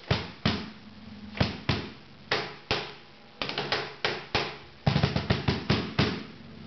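A cajon struck by hand in a lively rhythm, sharp slaps with a buzzing rattle of snares under each hit, close and fairly loud.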